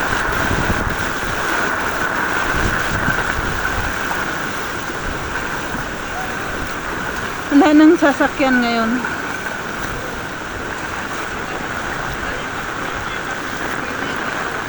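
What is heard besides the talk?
heavy rain during flooding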